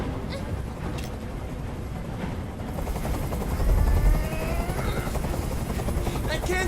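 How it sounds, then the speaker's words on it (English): Helicopter hovering nearby in Detroit: Become Human, a steady loud rotor thrum that swells around the middle, with a tense standoff atop a rooftop and voices murmuring beneath the noise. "I can't stand that noise anymore. Tell that helicopter to get out of here."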